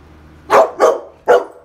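A dog barks three times indoors, loud and close, with two quick barks followed by a short pause and a third.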